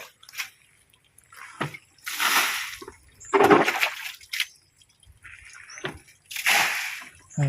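Water gushing and splashing in irregular bursts, loud and close, with quiet gaps between surges.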